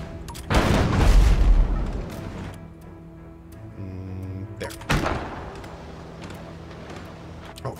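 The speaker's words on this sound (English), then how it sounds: "let's get you on cannons." Cannon fire in the Abandon Ship naval combat video game: a loud, deep booming blast with a rumbling tail, followed by a few quieter mechanical clunks and a second sharper boom, with no talking.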